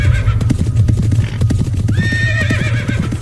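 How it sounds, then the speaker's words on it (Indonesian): Horses run around a house, with loud, close, rapid clip-clop hoofbeats throughout and a high neigh rising partway through. "Ini satu keluarga ini mendengar ada suara kuda lari-larian mengelilingi rumah mereka."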